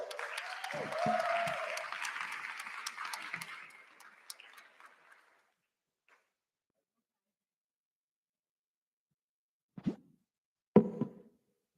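Audience at a school youth parliament opening ceremony applauds to welcome a guest, a fairly faint burst of clapping that fades out over about five seconds, followed by silence and a couple of brief thumps.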